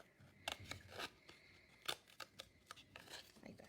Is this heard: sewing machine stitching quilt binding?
no